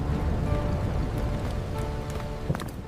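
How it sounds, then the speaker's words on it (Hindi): Rain falling on a village, a dense steady patter with a few sharper drops and knocks near the end, fairly close and with no talking. "बारिश हो रही है"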